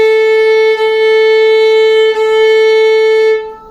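A single sustained violin note bowed evenly and steadily, with a clean, full tone and two slight bow changes before it fades out.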